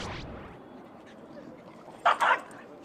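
Dogs at a Brooklyn dog run, with two quick close barks near the end over a steady murmur of outdoor background noise.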